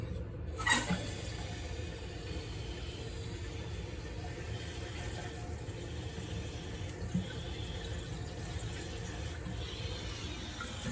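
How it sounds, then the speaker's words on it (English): Water runs steadily into a toilet tank through a newly reopened fill valve, a continuous hissing rush with a soft gurgle underneath, close by and unbroken throughout. "I see water coming into the tank."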